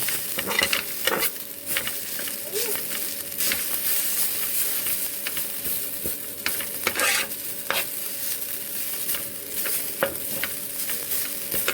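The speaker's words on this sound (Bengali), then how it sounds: "একটু ভাজা ভাজা করে নিই।" Food frying and being stirred in a pan, a steady sizzle with repeated scraping stirs and occasional clinks throughout, close and alone without talk.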